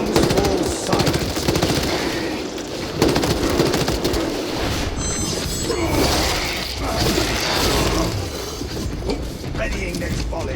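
Rapid machine gun fire and clattering mechanical bursts in the video game Warhammer 40k Space Marine 2, dense and continuous with heavy battle noise.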